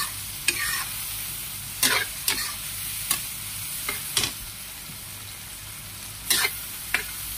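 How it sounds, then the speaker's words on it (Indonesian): Green tomatoes stir-fried in a pan for sambal goreng with dried squid, giving a steady soft sizzle punctuated by several sharp scraping stirs of the utensil against the pan. "Barulah kita masukkan tomat hijaunya."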